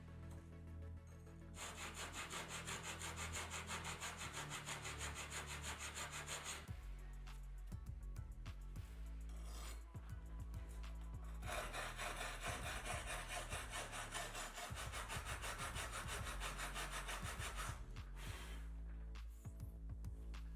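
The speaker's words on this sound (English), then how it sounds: "filing the edge is a quick and easy way of adjusting the cut" A file rasps back and forth along the edge of a cut tile, quiet and close, in rhythmic bursts of scraping strokes separated by short pauses.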